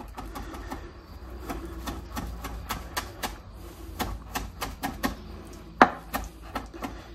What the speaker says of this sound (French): Moi, je mets un peu de persil, un peu de ciboulette que je vais hacher vraiment finement.